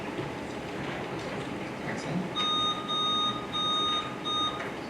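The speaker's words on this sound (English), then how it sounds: "can we test your buzzers just to be sure nothing came loose?" Academic games quiz buzzers are tested in a competition hall, a series of four steady electronic beeps in quick succession over roomy background murmur, with a brief spoken remark.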